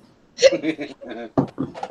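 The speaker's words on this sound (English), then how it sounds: "Now I have hiccups." Someone with hiccups after eating pizza and drinking hard cider makes several short, close, voiced hiccup bursts in an uneven rhythm, with little else around them.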